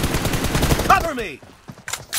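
Gunfire in the mobile shooter game PUBG Mobile, a rapid burst of shots that blends with a short spoken game callout, then fades into a few scattered sharp cracks.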